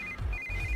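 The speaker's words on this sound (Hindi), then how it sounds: "इस वक्त दीदी का फोन।" A phone sounds its ringtone for an incoming call from an older sister. The electronic tone is steady and moderately loud over a low rumble in the background, and it briefly cuts out in the middle.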